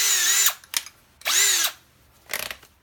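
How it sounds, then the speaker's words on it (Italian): A TECCPO TDHD01P 18V cordless hammer drill boring holes with a 10 mm wood bit: two loud whining bursts of about half a second each, and after each one a shorter rattling clatter. "Adesso facciamo la prova invece a fare dei fori con questa punta per legno."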